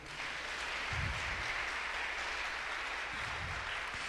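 A church congregation applauds during a sermon, a broad continuous wash of clapping at moderate loudness with a couple of low thumps, no voices on top.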